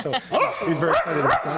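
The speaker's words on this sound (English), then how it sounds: "he's barking because he can see himself" A six- to seven-month-old Schnauzer mix puppy barks in short, yippy, rising bursts on a news broadcast, close and loud, mixed with a person talking over it.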